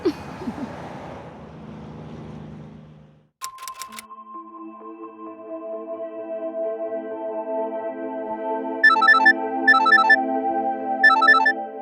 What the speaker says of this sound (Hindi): अरे बार बार कितनी बार फोन करेगा यार?